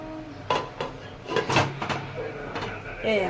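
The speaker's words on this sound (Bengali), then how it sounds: "এবার ঢাকনা দিয়ে দেবো।" Several sharp clanks and knocks of metal cookware, a lid set down onto a pan on a gas stove, with a person talking between the clatters.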